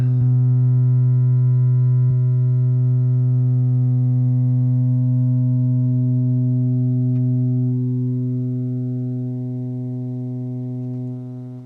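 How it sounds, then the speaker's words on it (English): A steady synthesizer tone with rich harmonics from an Erica Synths EDU DIY kit oscillator, its timbre slowly shifting as the pulse width changes, fading slightly toward the end. "Changing pulse width, linear scale"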